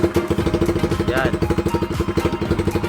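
A Flash Vperman 150 motorcycle engine revs up close as the throttle is worked, a steady rapid pulsing rising in pitch, with someone talking over it.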